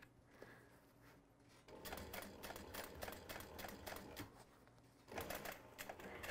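A sewing machine stitches the fabric of a portable gaming console case, its rapid mechanical clatter starting up loud after a quieter stretch, pausing briefly, then surging again near the end.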